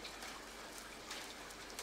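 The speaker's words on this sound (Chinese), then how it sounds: "看这个游戏能不能不要下雨" Steady hiss of rain in the horror video game Water Tank, a soft continuous wash with faint scattered drop ticks and no voices.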